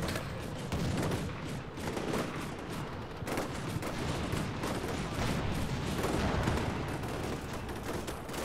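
Soldiers trade dense, continuous gunfire in the Combat Mission Shock Force 2 wargame, overlapping rifle and machine-gun bursts rattling nonstop with heavier booming shots mixed in, loud and close throughout.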